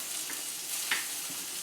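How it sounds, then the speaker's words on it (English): Red wine boiling and reducing in a pan on the stove, a steady soft bubbling hiss with faint pops, alone and continuous. "My red wine is boiling. It's starting to reduce a little bit there."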